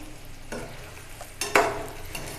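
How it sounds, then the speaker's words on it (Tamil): Eggs fry in a covered pan for egg biryani, a low sizzle under a few stirring scrapes and one sharper clatter midway, close and quiet. "நல்லா முட்டையை ஃப்ரை பண்ணிக்குவோம்"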